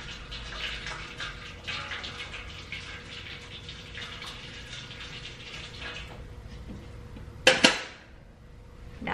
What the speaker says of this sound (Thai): ใส่น้ำร้อนนะคะอันนี้เป็นน้ำร้อนนะคะดิฉันได้ต้มไว้แล้ว